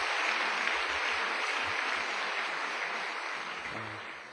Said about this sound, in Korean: 우리 김수정 씨와 우리 분이엘 중창단에게 한번 격려의 박수를 드리겠습니다